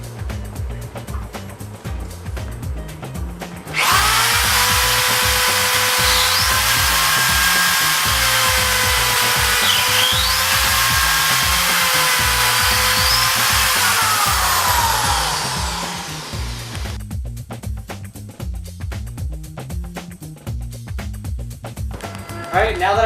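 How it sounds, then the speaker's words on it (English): A power drill with a 3/16 bit whines loudly and steadily for about twelve seconds, drilling a hole for a mounting bracket, close by, with a person talking before and after. "drill the hole for the mounting bracket, which is going to be using a 3/16 drill bit"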